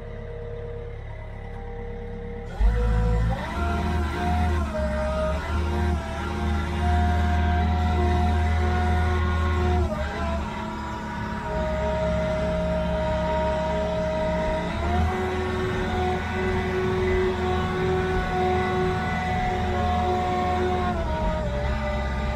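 A Logbullet Superbullet forest log hauler starts up in a Finnish forest and drives off, its motor rising into a sustained loud drone with shifting pitch as it moves, alone with no talk.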